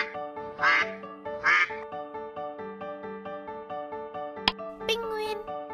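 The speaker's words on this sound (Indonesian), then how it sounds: "Bebek." A duck gives two loud nasal quacks close by, and a sustained tonal call follows under them. A short sharp click comes near the end, then one more brief squawk.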